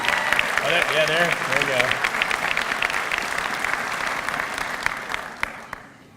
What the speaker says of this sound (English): we got to give another round of applause